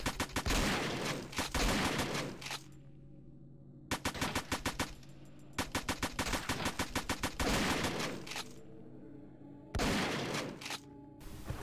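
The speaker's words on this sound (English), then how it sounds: "it does a lot of damage, it seems, but it's burning through its bullets real fast" Rapid bursts of automatic fire from a light gun in the zombie shooter flash game SAS: Zombie Assault, loud, close and repeated in quick volleys separated by short pauses, with no talking.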